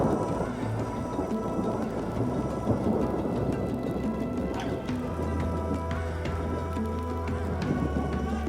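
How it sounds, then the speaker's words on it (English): Steady rain falls during a trek on an active volcano, Mount Rinjani, a dense even patter that holds throughout with a low rumble underneath. "It's raining."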